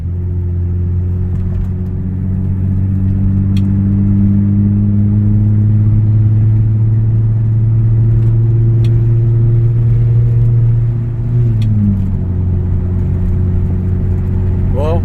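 A car driving along, its engine giving a steady, close, low rumbling hum that holds an even pitch and then sags slightly in tone near the end.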